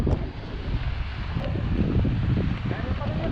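Wind buffets the microphone on a breezy island shore, a low rumbling gusty roar with faint surf beneath, steady and close throughout.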